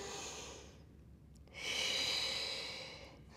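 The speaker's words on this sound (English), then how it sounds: "1 more big breath." A slow, deep breath drawn in through the nose and let out through the mouth, close and soft, with a quieter inhale followed by a longer, stronger airy exhale during a Pilates cool-down.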